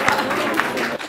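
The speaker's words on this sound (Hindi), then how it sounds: "महिलाओं ने बहुत जोर से तालियां बजाई।" Women in an audience applaud loudly after a humorous poem at a kavi sammelan, dense steady clapping filling the short moment with no pause.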